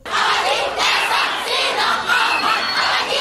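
A dense crowd of secondary-school pupils shouts and cries out together in a schoolyard in Lokossa, a loud, continuous roar of many voices swelling in waves throughout.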